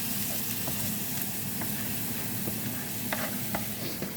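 Onions frying in a pan, a steady moderate sizzle with occasional soft scraping stirs, no voices.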